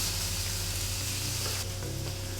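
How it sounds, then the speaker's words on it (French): Tofu pieces frying in a pan as they are laid in, giving a steady broadband sizzle throughout, loud and close, with a brighter burst of hiss partway through and no talking. "je vais faire cuire le tofu. Voilà, donc hop, je les mets directement dans la poêle."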